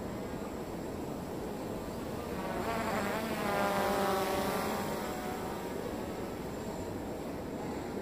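A Bugs 3 quadcopter drone flying in a backyard gives a steady, buzzing whine of propellers that swells slightly louder in the middle as it passes closer, then settles back to a constant hum, with no talking.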